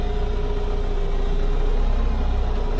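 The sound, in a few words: McCormick X4.70V tractor engine pulling away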